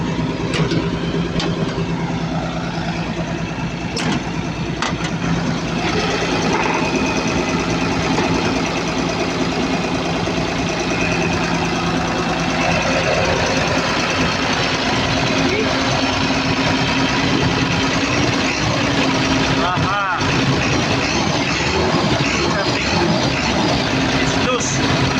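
A CAT 320D2 L excavator's diesel engine runs steadily at high revs with a dense, continuous mechanical roar, close and loud throughout, with a voice talking over it.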